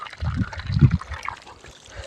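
Rainwater from several days of unseasonal rain gushes and trickles out in soft, uneven bursts, faint and close.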